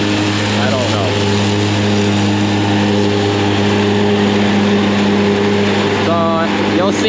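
A hay mower cutting a fourth-cut hay field, heard as a loud, constant engine drone with a steady tonal hum across the whole span and a voice speaking over it.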